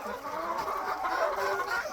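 A hen clucks in short repeated calls close by during morning feeding in a backyard coop, a soft continuous run of fowl chatter with no talking.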